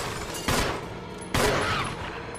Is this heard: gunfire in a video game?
yes